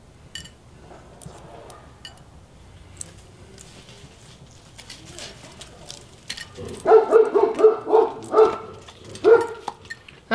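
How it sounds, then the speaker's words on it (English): A neighbor's dog barks several times in a quick burst partway through, fairly distant, following a quiet stretch with faint ticking and small background noises. "A neighbor's dog decided to bark."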